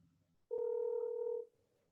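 A single steady telephone tone sounds for about one second, loud and clean, with quiet room background before and after.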